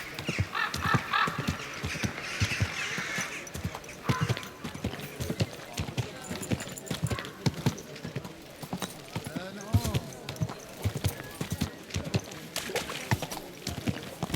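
Rhythmic clip-clop of horse hooves in the video game Kingdom Come: Deliverance II, with occasional mechanical clatter, voices speaking over them at times, fairly close and steady.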